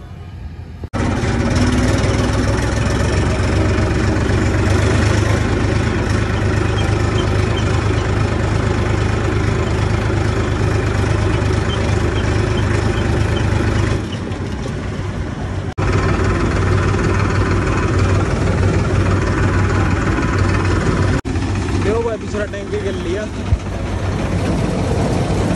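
Combine harvester engine running steadily at a loud, constant drone for a long stretch, with a brief dip partway through and people talking over it.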